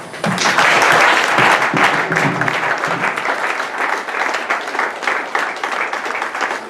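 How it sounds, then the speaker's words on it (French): A church congregation applauds together, a loud, full burst of many hands clapping that holds steady for several seconds, with a faint tonal sound lingering underneath early on. "nous allons applaudir pour eux"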